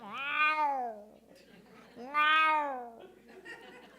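A human voice imitates cats meowing, two long wavering meows about two seconds apart, close and moderately loud, with faint softer vocal sounds between them.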